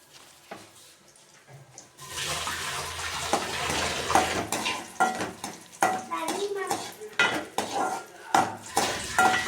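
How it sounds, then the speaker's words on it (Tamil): Cashews and raisins fry in hot ghee for a sweet milk payasam, a sudden loud sizzle after a quiet start, then uneven scraping and stirring clatter against the pan. "இப்போது முந்திரி பருப்பு திராட்சை அண்டி போட்டுக்கிறோம்"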